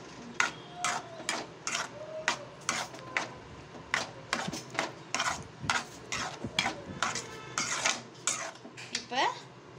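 A spoon scrapes and clanks against a metal pan while paneer capsicum gravy is stirred, a steady rhythm of sharp close metallic strokes about twice a second.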